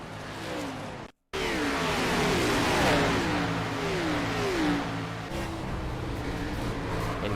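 Race car engines in a sim racing video game at a Las Vegas oval roar past with rising and falling pitch sweeps and revving as cars spin and crash, loud and continuous apart from a brief dropout.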